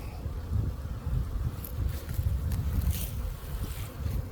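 Honeybees buzz inside a freshly opened hive, a dense, continuous low drone at close range with no talking.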